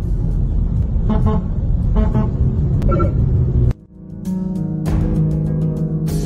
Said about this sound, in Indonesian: Mobil dinas patwal polisi membunyikan klakson di tengah kemacetan agar diberi jalan.